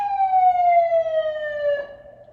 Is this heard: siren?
yes